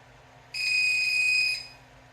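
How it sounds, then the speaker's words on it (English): A steady, shrill electronic beep tone from a model rocket's avionics flight computer, reporting zero altitude during a ground test, sounds once for about a second, loud and close, over a low background hum. "And it's beeping out 0 altitude."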